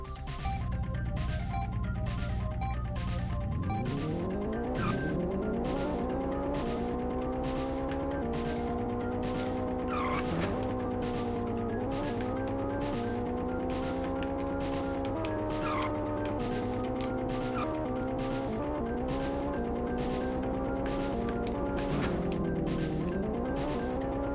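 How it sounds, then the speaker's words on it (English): Race car engines in the Checkered Flag video game, set in rain, whine in rising tones as the car repeatedly shifts up through gears, with squeals over a steady low rumble. "Gentlemen, start your engines."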